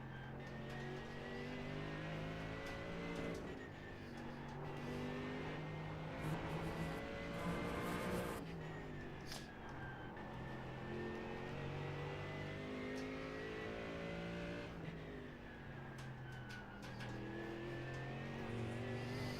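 Race car at Nürburgring endurance championship practice, its engine droning loudly and steadily throughout with harmonic pitch rising and dropping as it accelerates, shifts and lifts, heard from inside the car.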